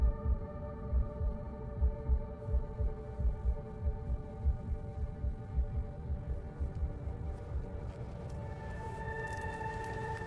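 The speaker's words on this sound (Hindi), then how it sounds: "तुम्हारी दिल की धड़कन तेज हो रही है।" A fast, steady heartbeat throbs low and muffled as a film sound effect, its regular rapid pulses running alone under a faint hum, with a rising tone near the end.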